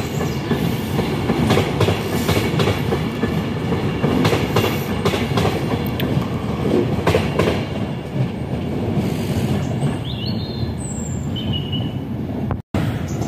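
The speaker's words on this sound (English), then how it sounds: "Passing now is LNER." An LNER passenger train rolls through Carlisle station, a loud continuous rumble with clattering wheels on rail joints and occasional high squeals, sustained for several seconds before easing off.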